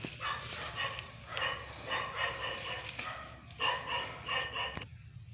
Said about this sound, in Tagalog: Ang laking aso.